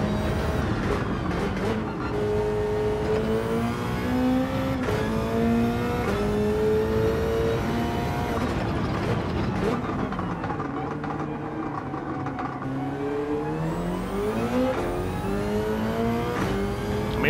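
A race car engine in Gran Turismo 7 revs continuously and loudly, its pitch climbing and dropping through gear changes, with a voice talking over it.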